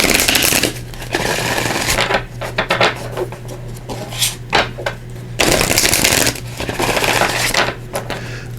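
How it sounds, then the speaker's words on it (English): A deck of oracle cards is shuffled by hand close up, with repeated riffling and rubbing bursts and soft flicks in an uneven rhythm and no speech. "So let me just shuffle these up."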